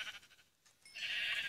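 A Minecraft sheep bleats in a short, faint, nasal burst, then a second, louder bleat follows soon after.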